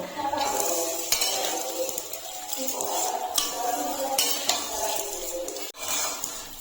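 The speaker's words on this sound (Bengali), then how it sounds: "ওই ঘিয়ের মধ্যেই আমি সিমাইগুলোকে ভেজে নেব।" Vermicelli fries in hot ghee with a soft, steady sizzle while a utensil repeatedly scrapes and stirs the pan, occasional metallic clinks.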